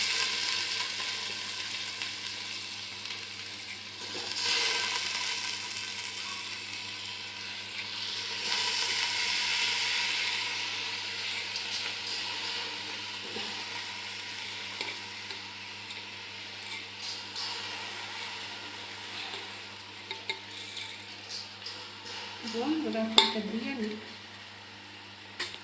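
Soaked rice added to fried dal in a hot pan, giving a loud, steady sizzle that swells and settles as it is stirred, with occasional scrapes of a utensil and a voice talking over it.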